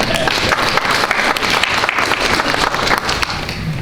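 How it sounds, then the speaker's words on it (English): A room full of people at a public meeting applauds, dense steady clapping that keeps going at full strength throughout. "Give them a round of applause."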